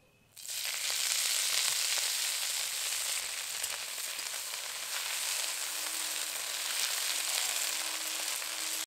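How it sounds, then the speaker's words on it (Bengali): Fenugreek leaves hit hot mustard oil in a pan with a sudden burst of sizzling that settles into a steady, loud frying hiss, with faint stirring sounds underneath. "তেল গরম হয়ে গেছে, এবার শাক দিয়ে দেব।"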